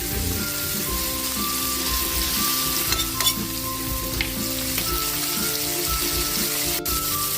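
Celery frying in a hot pan for squid adobo, a loud steady sizzle with stirring scrapes and spattering crackles over a low hum, close and unbroken, without any speech.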